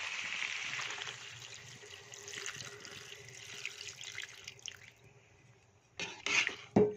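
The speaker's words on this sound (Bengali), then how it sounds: "এখানে দিয়ে দেবো পরিমাণ মতো জল।" Water streams into a pot of chicken curry, a steady pouring and splashing wash that runs for several seconds, then a few louder, sharper splashes and clatters near the end; no one speaks.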